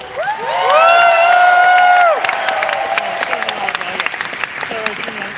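Loud crowd applause with cheering and whoops at a convention closing ceremony, a sustained shout early on giving way to steady clapping from a large audience.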